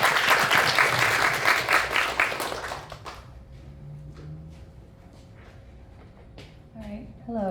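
Audience at a poetry showcase applauds a speaker, a burst of clapping for about three seconds that then dies away, followed by quiet room sound and a few scattered noises before someone begins speaking.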